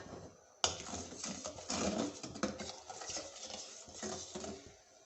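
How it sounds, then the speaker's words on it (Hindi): A spoon stirs sugar syrup in a pot for Gujarati halwa, giving soft irregular scraping and light clinks against the metal, close and fairly quiet, with no voices. "इसमें चम्मच चला देंगे ताकि चीनी नीचे लगे ना"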